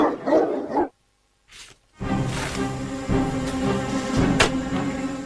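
Roman war dogs bark and bay in a dramatized scene, a short burst of barking followed by silence, then a swelling, sustained layered sound with occasional sharp peaks.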